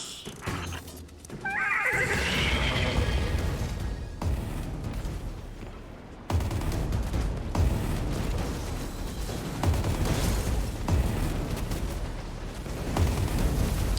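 Loud horse whinny in the Destiny 2 video game, a rising shrill neigh near the start, followed by booming explosions and heavy game effects rumbling throughout.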